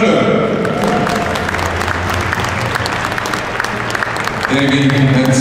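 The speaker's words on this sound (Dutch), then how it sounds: "Dames en heren, geef u dus een fantastisch applaus." Applause from spectators at an indoor show-jumping equestrian event, steady loud clapping filling the arena with background music and announcer-like voices threaded underneath.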